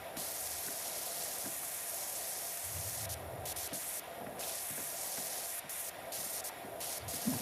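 A pressure washer in the video game PowerWash Simulator 2 sprays in a steady broad hiss that runs without a break, with small shifts in tone as the spray moves.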